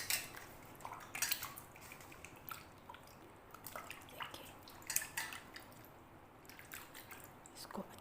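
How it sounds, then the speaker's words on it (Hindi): Water poured and splashed in a metal pot while chicken liver is washed by hand, soft drips, squishes and small clinks of the pot coming in irregular bursts, close and quiet. "अच्छा सा पानी डालना है और इसको अच्छी तरह से हमने धो लेना है"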